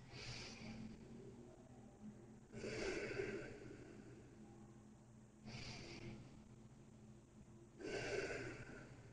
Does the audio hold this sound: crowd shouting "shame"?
no